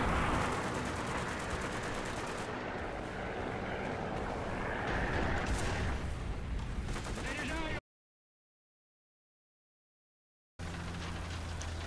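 Tank machine gun firing in War Thunder with an SU 220Y nearby, a continuous loud rattling stream of shots over engine rumble, cut off by a sudden gap of silence before the noise resumes.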